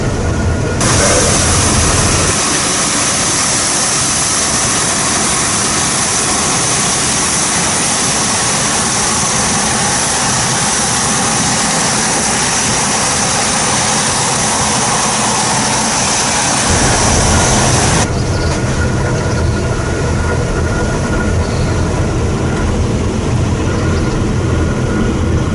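A CLAAS Lexion 770 combine harvester engine roars continuously and loudly, a heavy low drone with a brighter high whine over most of the run that shifts in tone partway through.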